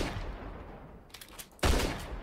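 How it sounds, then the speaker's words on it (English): Sniper rifle firing in a Roblox prison video game, a single sharp loud shot after a quiet moment, followed by a decaying tail. "I'm about to use the sniper right now."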